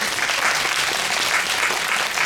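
An audience at a Korean film premiere screening applauds, a dense, steady burst of many hands clapping at once, loud and close throughout with no voices standing out.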